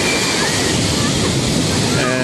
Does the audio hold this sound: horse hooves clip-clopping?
no